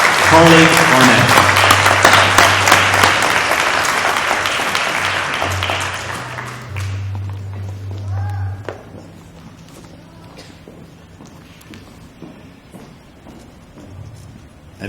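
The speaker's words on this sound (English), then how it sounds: "a round of applause for preteen Miss Huntingburg Herbstfest, Carly Barnett" A pageant audience at the Huntingburg Herbstfest gives loud, dense applause for the preteen winner, with a musical tone beneath. The clapping gradually thins and fades after about eight seconds, leaving only scattered claps and quiet room noise.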